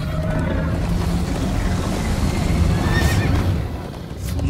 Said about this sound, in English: First time on a horse here.